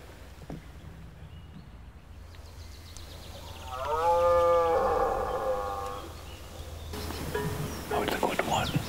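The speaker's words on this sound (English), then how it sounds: "following the sound of its roaring" An old stag roars in the French Pyrenees during a hunt, a drawn-out, moaning bellow from some distance away that swells and fades over a few seconds against outdoor background noise.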